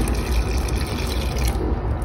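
Warm water pours steadily and close up into bread dough being mixed outdoors near a brick oven. The liquid sound is a continuous, fairly loud splash with no speech.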